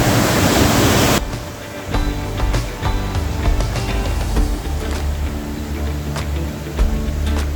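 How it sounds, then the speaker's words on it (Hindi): Fruit Falls waterfall in Cherrapunji, Meghalaya, running with a heavy, strong flow, heard as a loud, steady broadband roar of rushing water. A louder burst opens the sound before it settles into a dense, continuous wash. "लिंकसेरा के बाद अब हम पहुंच गए हैं फ्रूट फॉल्स पे, लेकिन यहाँ पर पानी का जो बहाव है वो इतना ज्यादा है"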